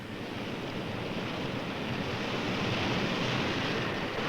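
Heavy ocean surf battering the shore, a dense continuous roar of crashing water with wind noise, loud and unbroken, building slightly toward the end.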